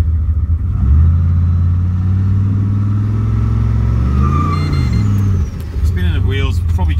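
A car engine with a 4L60E automatic transmission revs near 3000 rpm while spinning the wheels, a deep, loud, steady drone that climbs and wavers before a brief drop and higher whining tones.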